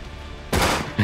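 Gunfire in a shooter video game: a quiet lead-in, then a loud sustained burst of shots, followed by a second short burst at the end.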